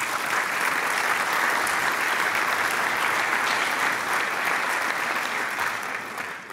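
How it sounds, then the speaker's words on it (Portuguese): Audience applause at a congress wrap-up event, a full room clapping steadily and loudly for several seconds before easing off at the end. "Palmas para a nossa equipe"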